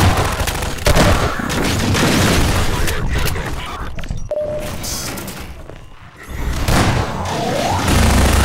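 Grenade explosions amid gunfire in the Half-Life 2 mod DefendVille: loud, dense stretches of shooting and heavy booms, broken by a brief quiet dip, then the fire and blasts resume at close range.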